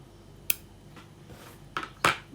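Scissors snip through crocheted Aran yarn on a beanie hat, giving a few quick, close, crisp clicks spread over about two seconds.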